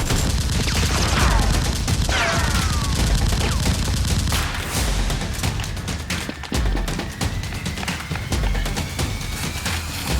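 Nerf guns fire in rapid, overlapping bursts of pops and clacks during a mock battle, loud and continuous, with children shouting and scuffling throughout.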